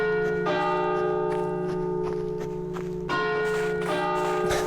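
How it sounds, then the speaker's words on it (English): A church bell in the video game My Winter Car rings steadily, with repeated resonant strikes whose long humming tones overlap and sustain throughout, with no voices. "The bell's been ringing for like 45 minutes in-game time."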